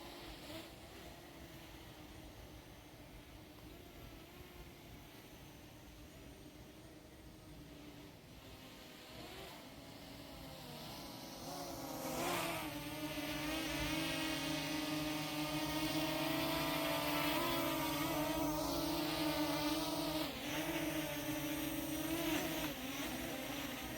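LYZRC L900 quadcopter drone flying and coming in to land, a steady whirring rotor drone with tonal harmonics that grows louder and shifts pitch in the second half as it nears, no talk.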